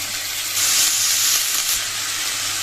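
Spring onion stalks and potatoes fry in hot oil with whole cumin and green chillies, giving a steady, close sizzle that swells slightly in the middle and holds without a break.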